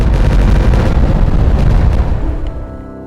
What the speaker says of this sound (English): Let's not detonate this while the beaver's on it, otherwise they will die.